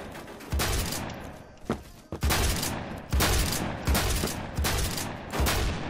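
Shotgun blasts in the video game Phantom Forces, a capture-the-flag match: about six loud, close, booming shots at uneven intervals, each with a short decaying tail, plus a couple of fainter pops between them.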